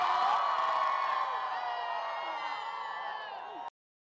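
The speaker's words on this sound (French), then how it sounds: "Des acclamations ont fusé" A crowd cheers and whoops at a parade marking the 50th anniversary of Vietnam's national reunification, many voices blending into one sustained roar that slowly fades before cutting off abruptly.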